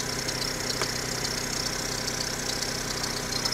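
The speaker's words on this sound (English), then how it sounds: "So I've got the engine running." A 2001–2006 Vauxhall Corsa engine idles steadily, a close, continuous mechanical hum with a faint knocking texture and no change in pace, heard alone without any talking.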